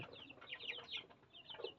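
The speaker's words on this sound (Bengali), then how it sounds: "এখানে চল্লিশ পিস সোনালি মুরগির বাচ্চা আছে" About forty Sonali chicken chicks chirp in quick, overlapping high peeps, faint and somewhat distant, with no talk.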